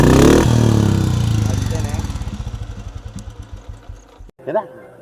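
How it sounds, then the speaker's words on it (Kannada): An old Royal Enfield Bullet motorcycle fired up with its electric self-start button, the engine catching loud and close, then settling into a steady thumping idle before cutting off abruptly, a voice briefly heard after. "ಜಸ್ಟ್ ಸೆಲ್ಫು ಬಟನ್ ಪ್ರೆಸ್ ಮಾಡಿದ್ರೆ ಸ್ಟಾರ್ಟ್ ಆಗುತ್ತೆ"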